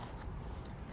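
A blade slices through a dragonfruit cactus stem being trimmed for grafting, making a few short, quiet snipping cuts close by against a faint background.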